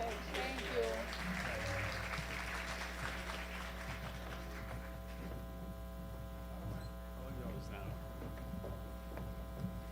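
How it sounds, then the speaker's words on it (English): Audience applause for a panel at an International Women's Day event at the start under an electrical hum, thinning after a few seconds while the steady hum continues. "A big round of applause for them again"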